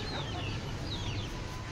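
Chickens cluck close by in a farmyard, several short calls over a dense steady background of farm noise.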